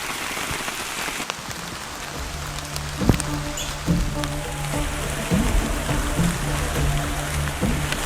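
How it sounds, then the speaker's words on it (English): Heavy rain falls in a forest as a constant dense patter, with occasional louder drips and thuds close by. "been raining all day"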